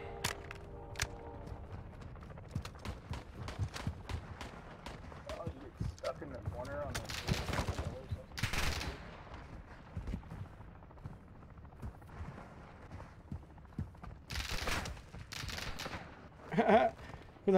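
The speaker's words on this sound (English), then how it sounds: "Who the hell is shooting at me?" Scattered gunshots crack faintly in a Modern Warfare 2 firefight, with a few louder bursts standing out midway and near the end, under quiet game ambience.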